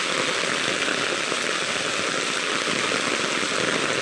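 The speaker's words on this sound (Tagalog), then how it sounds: "Lakas ng ulan, no?" Heavy rain pours down in a dense, steady hiss with no letup, loud and close.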